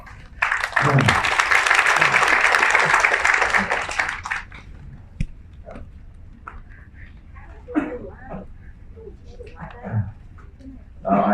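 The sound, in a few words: audience applause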